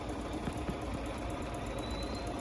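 A Bernina 790 Plus sewing machine runs steadily while stitching diagonally across a quilt, a dense continuous mechanical whir at constant loudness throughout.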